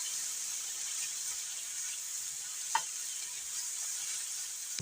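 Mushrooms fry with onions, scallions and celery in a pan, giving a steady soft sizzle with one brief clink of a utensil, fairly close and with no voices.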